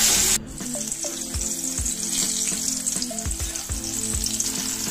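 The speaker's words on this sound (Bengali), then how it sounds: "এবার মাছগুলো ভেজে" Pieces of boal fish fry in hot oil with a loud, steady sizzle, and occasional clinks and low knocks from a utensil sound beneath the crackle. Nobody speaks.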